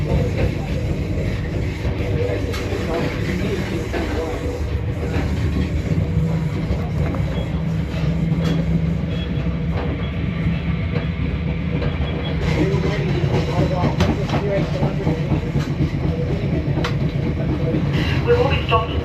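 Inside a regional train near Wigan pulling away again after a long stop, a steady low rumble and rail clatter run throughout, with voices talking over the noise.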